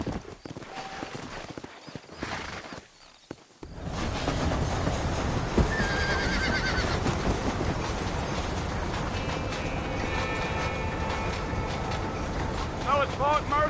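In the video game Red Dead Redemption, a horse gallops at a steady pace and lets out a neigh, loud and close, following a brief quieter stretch with talk at the start.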